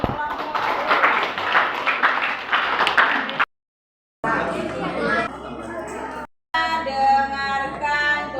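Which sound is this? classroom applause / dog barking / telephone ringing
classroom applause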